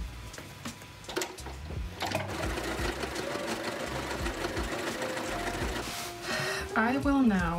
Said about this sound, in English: So what I'm gonna do first is I will sew this flap